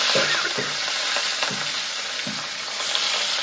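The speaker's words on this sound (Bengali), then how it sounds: "মাছগুলো ভাজছে" Steady hiss of catla fish sizzling in hot oil, with a few soft bubbling pops and light clinks recurring through the clip, no voices.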